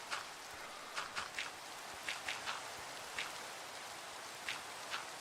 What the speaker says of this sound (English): I must say the sound design for the rain is really good